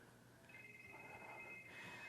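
A phone reminder alarm rings steadily at a tech talk, its sustained electronic tone continuing across the moment with room sound beneath it and no speech.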